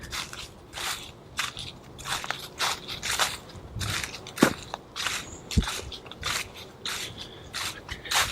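Walking through crunchy dry leaves in the woods, with close, regular footfalls crackling and rustling and an occasional sharper snap underfoot.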